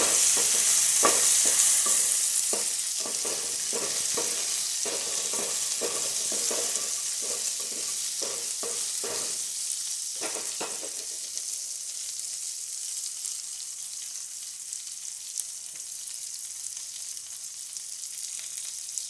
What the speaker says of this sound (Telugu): ఇది వేగాలి.